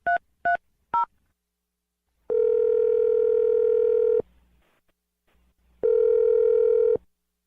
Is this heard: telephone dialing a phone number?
yes